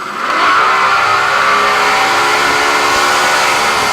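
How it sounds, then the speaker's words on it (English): Sea Pro center console boat engine opening up to full throttle on a sea trial, a loud, steady outboard roar that swells in the first half second and holds with rising pitch throughout, no talking. "So here we go, full acceleration."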